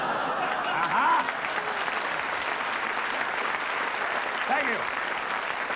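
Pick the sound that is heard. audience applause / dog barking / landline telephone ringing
audience applause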